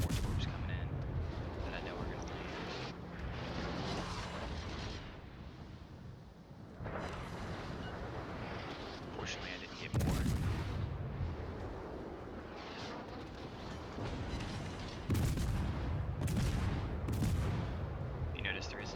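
Naval gunfire from the Mogador destroyer in World of Warships, repeated heavy booming salvos rolling over a constant battle din, with the loudest bursts arriving near the middle and end.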